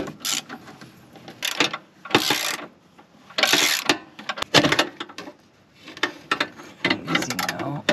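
A ratchet with a 13 mm socket snugs the flex pipe bolts on a 2002 VW Jetta, giving close, uneven bursts of clicking strokes with short gaps between them.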